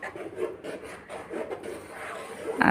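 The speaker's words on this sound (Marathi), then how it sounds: "मी कुठेही न थांबता सतत ढवळत आहे, म्हणजेच फिरवून घेत आहे" Sabudana (tapioca pearls) stirred nonstop in a pan over a low gas flame, producing soft, repeated scraping and rubbing sweeps at close range.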